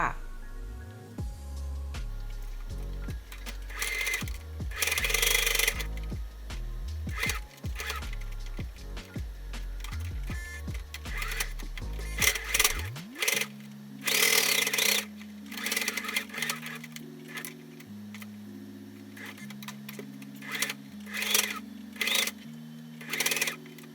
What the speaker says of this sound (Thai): วิธีการเย็บเราก็จะเย็บให้ชิดกับตัว ขอบผ้าค่ะ